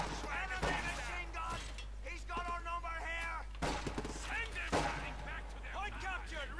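Artillery and gunfire from the strategy game Company of Heroes 2 in a 1v1 match, a series of distant thuds and clanks under continuous excited talk, with a few sharper impacts standing out.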